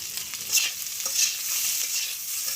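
Pointed gourd (potol) frying in oil in a village kitchen pan, a close steady hiss of sizzling with soft stirring scrapes and no voices.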